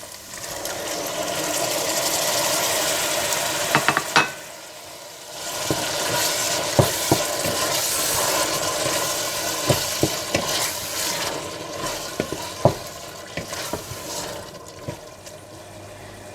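Minced meat (keema) fries with tomatoes in a pan, giving a continuous loud sizzle broken by a short pause, then more frying with sharp scraping clicks of a spoon stirring at irregular intervals.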